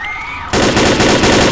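Rapid automatic gunfire bursts out abruptly after a brief quiet lead-in and continues loud and sustained, in a multiplayer shooter game session.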